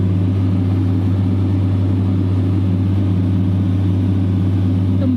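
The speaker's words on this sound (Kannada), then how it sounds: "ಫ್ರೆಂಡ್ಸ್ ನಮ್ಮ ಮನೆ ಹತ್ರ ಬೋರ್ ಆಗ್ತಾ ಇದ್ದಾರೆ, ಅದಕ್ಕೆ ನೋಡಿ ಗಾಡಿ ಇಲ್ಲೇ ಇದೆ" A borewell drilling rig's engine runs near a house with a loud, constant low drone and a strong steady hum. It barely changes throughout, with no clear talk over it.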